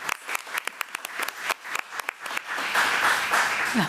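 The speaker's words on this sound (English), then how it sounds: "let's give Ms. Mbaga another round of applause" At a committee-of-the-whole school meeting, a few sharp, separate claps start the applause, then it swells into a fuller, steady round from the audience.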